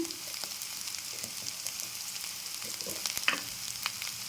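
Ginger and onion frying in a pan for a drumstick, tomato and egg curry, a steady soft sizzle with faint stirring scrapes, close and continuous.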